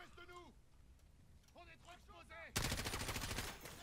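Gunshots in the Call of Duty: Modern Warfare campaign, someone speaking French over faint game sounds before a sudden loud, sustained crackling burst of gunfire that fills the last second and a half.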